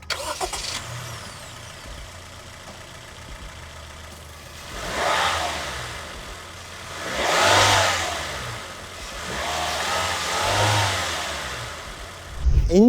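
A Honda City facelift's 1.5-litre 1498 cc inline-four petrol i-VTEC engine with CVT revs up in three separate swells over a steady idle, fairly close and clear.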